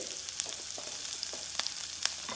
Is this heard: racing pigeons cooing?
no